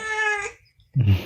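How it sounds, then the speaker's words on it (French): A house cat gives one clear, drawn-out meow up close, followed by a short pause and a soft low rumble of nearby movement. "C'est le chat de mon fils."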